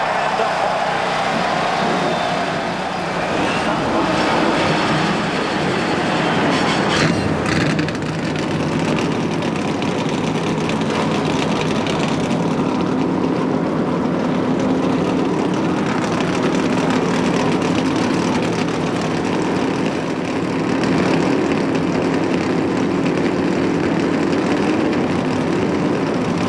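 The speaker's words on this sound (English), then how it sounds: "Gentlemen, start your engines." Stock car engines at Michigan Speedway's 1998 NASCAR Winston Cup Miller Lite 400 rumble in a loud, steady, dense roar, with a sharper swell partway through and a low droning hum underneath.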